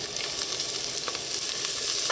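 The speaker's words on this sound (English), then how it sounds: "just let this saute until the garlic starts to turn a light brown color" Garlic and onion sautéing in hot oil for a black bean dish, a loud continuous bright sizzle with faint stirring ticks scattered through it, close up and with no one speaking.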